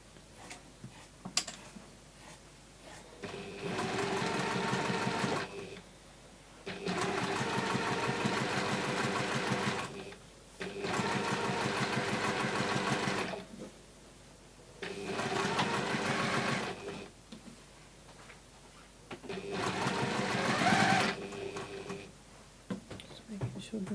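A sewing machine runs in five bursts of rapid, even stitching, each lasting a few seconds, as seams on a quilt block are sewn, with short pauses between runs and a voice talking at times.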